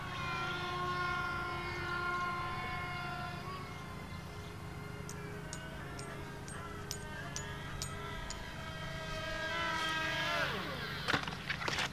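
An FT EZ Canard RC model airplane flies overhead with a sustained, whining electric motor drone that shifts in pitch with throttle, then sweeps sharply lower as it passes close near the end.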